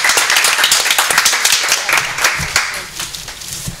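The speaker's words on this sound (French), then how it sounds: "avec des applaudissements" Close hand clapping from a small audience at a student question-and-answer event, with distinct individual claps forming a lively, uneven patter that thins slightly toward the end.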